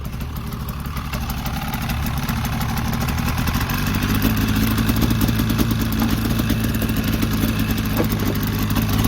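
An old Polaris engine held at full throttle runs rough and unhappy, a steady close drone with ragged, uneven pulsing that builds slightly and never clears up.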